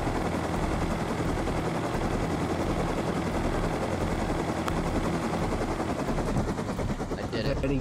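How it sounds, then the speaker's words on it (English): Helicopter in the survival game Rust, its loud, steady rotor chop and engine whir filling the whole stretch up close as it is set down on a small rooftop, with a few sharp clicks mixed in. "Can you park a heli on a 1x1?"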